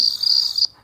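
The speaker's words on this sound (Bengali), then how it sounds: "ক্রিকেট মানে এটা গেমস না এটা হচ্ছে জিজি পোকা যেটাকে বলা হয়" A cricket chirping sound played from an alarm app on a mobile phone: one loud, close, continuous high trill lasting about two-thirds of a second, then cutting off to near silence.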